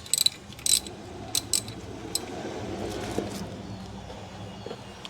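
Ratchet wrench tightening a bolt on a BMW N52 oil filter housing, a few sharp metallic clicks and clinks close up near the start, then sparser faint clicks over a quiet workshop background.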